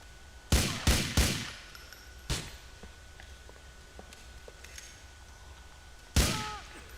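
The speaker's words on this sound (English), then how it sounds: "Here, I'm using the combat pistol just for posterity." Combat pistol fire in Grand Theft Auto 4, a quick cluster of loud single shots with echoing tails, a lone shot after a pause and another after a longer quiet stretch.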